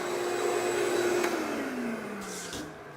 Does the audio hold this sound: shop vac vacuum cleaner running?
yes